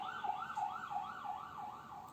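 An ambulance siren wails in a steady, repeating rise-and-fall pattern, faint and somewhat distant, running continuously with no talk.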